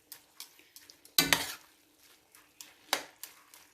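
Stir-fry spaghetti being mixed in a pan, soft scraping and tapping of a utensil against the metal with one louder clattering scrape, close and unhurried, with a light sizzle beneath.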